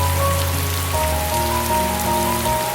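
Heavy rain pouring down in the hills of Kodagu, a dense, continuous roar of drops close by with a low steady hum beneath it and no voices.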